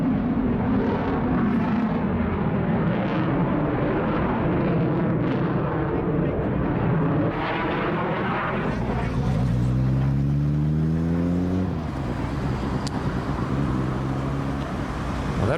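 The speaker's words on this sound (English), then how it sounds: "That fighter jet sounds like a Jeep." A fighter jet engine in Microsoft Flight Simulator 2024 roars loudly and continuously for about fifteen seconds, with a rising, whining engine tone swelling partway through.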